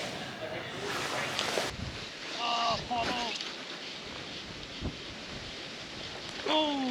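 Gusty wind blows across an open still-water trout fishery in early autumn, a continuous rough rumble that swells and buffets the microphone, with brief voices talking underneath.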